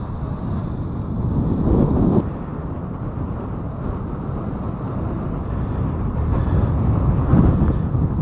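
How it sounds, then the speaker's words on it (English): Strong wind roars and buffets the microphone continuously at an overlook in Craters of the Moon National Monument, Idaho, rising and falling in gusts with a low rumbling rush. "it is super windy up here"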